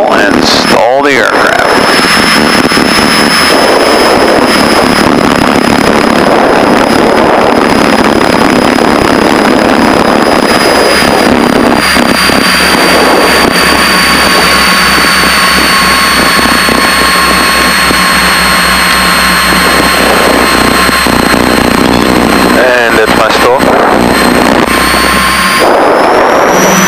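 Piper Seneca twin-engine aircraft in flight during a multi-engine check ride, a loud steady engine drone with droning tones heard from inside the cabin, with brief dips and voices over it.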